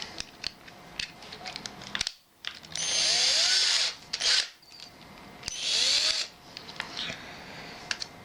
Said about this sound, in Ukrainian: Якщо біту тримача не маємо, тоді просто закручуємо саму біту.